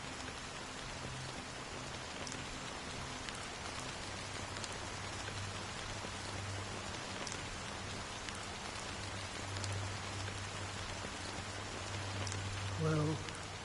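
Steady rain falling in Honkai: Star Rail on PS5, a constant close hiss of drops on surfaces that runs unbroken throughout, with a low musical hum beneath.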